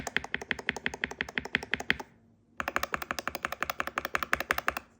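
Rapid, even typing on a keyboard with Cherry profile keycaps, crisp, slightly rattly clacking keystrokes close up, a short pause, then another quick burst of typing.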